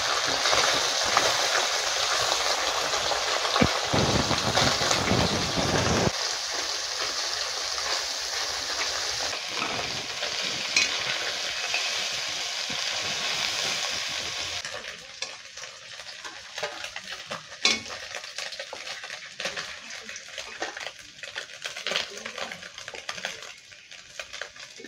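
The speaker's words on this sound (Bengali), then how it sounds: "মাছটা ভেজে নেব।" Snakehead fish frying in oil in a wok, with a steady broadband sizzle that runs throughout and grows a little quieter partway through, mixed with occasional light clinks of utensils against the pan.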